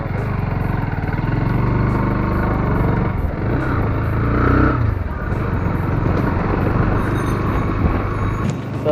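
A 2022 Bajaj Pulsar NS 160 BS6 motorcycle being ridden, its engine a loud, close, continuous drone with road rumble and slight rises in revs around the middle, no talking.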